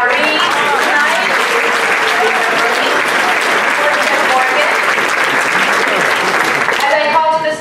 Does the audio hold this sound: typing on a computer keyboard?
no